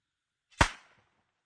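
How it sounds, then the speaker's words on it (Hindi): A single sharp, loud gunpowder blast meant to scare off wolves, with a brief decaying tail, standing alone in silence. "ये है वो धमाका जिसके डर से भेड़िए यहां से भाग जाएं"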